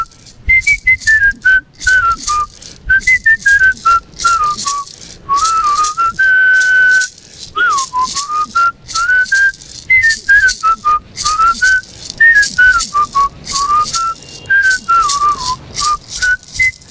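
A person whistles a lilting melody, clear and close, with phrases rising and falling over faint background rattling.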